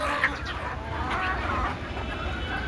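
Desi chickens kept for household eggs and meat cluck softly and intermittently amid steady farmyard background noise.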